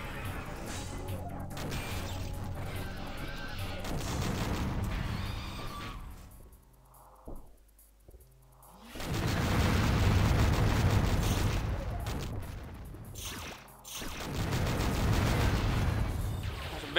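Enemy robots blowing up in the video game Descent 2, heavy crashing explosions in long rumbling bursts, with a quieter gap in the middle broken by a couple of short knocks before the blasts resume loudly.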